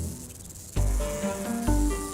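A rattlesnake shakes its tail rattle, producing a steady dry buzzing hiss that swells in two surges, loud and close with no voices.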